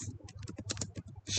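Quick, soft clatter of keys being typed on a computer keyboard, a close run of light taps in uneven rhythm with no talking.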